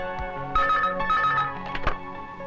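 A telephone rings in a hotel setting, with repeated bell-like trills in quick bursts, fairly loud and close, and no talking over it.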